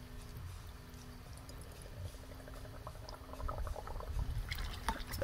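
Old antifreeze coolant drains from a car radiator, a soft trickling and splashing flow with low gurgles, growing slightly busier toward the end.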